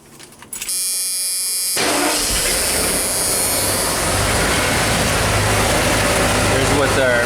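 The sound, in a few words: truck V8 engine idling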